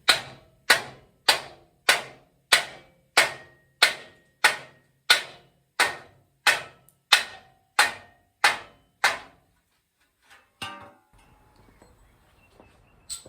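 Rivets being knocked out of the rear cross member of a 1956 Chevy pickup: about fifteen sharp, evenly spaced metallic hammer strikes, loud and close, followed by a few scattered clinks and quieter rustling.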